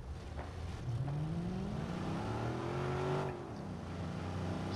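Car driving in the video game Watch Dogs, a steady engine drone with a rising then falling rev as it accelerates and eases off, continuous and moderately loud, with no one talking.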